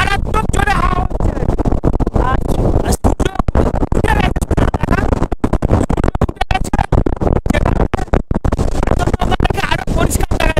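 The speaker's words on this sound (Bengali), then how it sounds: "মারাত্মক জোরে হাওয়া হচ্ছে।" Strong wind gusts blast across a mountain viewpoint at Tonglu, on the trek to Sandakphu. The microphone picks up a loud, constant buffeting roar, and a person talks over it the whole time.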